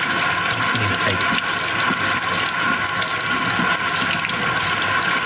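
Tap water runs steadily and loudly into a sink while washing, a continuous splashing rush with no pause.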